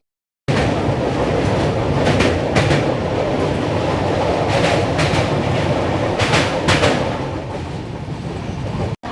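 Swarnajayanti superfast express train running at speed, a steady loud rumble of wheels and car body with repeated clickety-clack bursts from rail joints, continuous throughout and ending abruptly.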